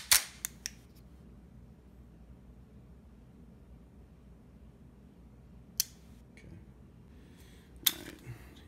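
Dry-fire trigger clicks and reset on a Ruger MK IV 22/45 pistol with its stock trigger, a few sharp isolated snaps clustered at the start, then two more spaced clicks later, otherwise quiet.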